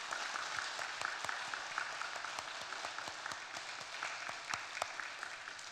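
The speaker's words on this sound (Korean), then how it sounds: "한번 큰 박수로 환영해서 맞이하시도록 하겠습니다" Church congregation claps to welcome a retired pastor and his family at a Sunday service, a quiet, fairly distant patter of individual hand claps, steady and uneven throughout.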